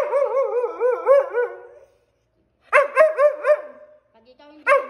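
A dog gives a series of high, yelping barks in two short bursts with a pause between them, close and clear, followed by a final single yip.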